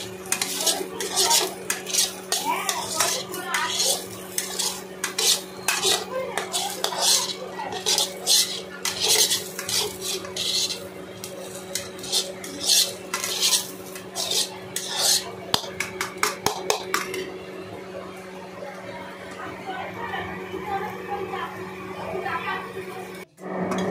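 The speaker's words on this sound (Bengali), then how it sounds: "কড়াইশুঁটি, আলু ভাজার মধ্যে কুচানো পেঁয়াজগুলো দিয়ে দেবেন।" A utensil scrapes and clatters in a wok as chopped onions are stirred into frying peas and potatoes, a busy run of sharp metallic strokes that stops near the end, with a quiet voice talking underneath.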